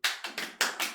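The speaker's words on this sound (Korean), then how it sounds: "박수!" A handful of sharp, close handclaps, about five in quick succession, alone without talk.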